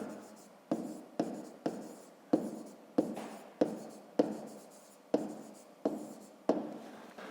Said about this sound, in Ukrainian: давайте запишемо тоді відповідь. Пишемо відповідь.